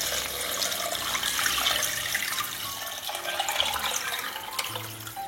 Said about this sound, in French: allez ajouter l'eau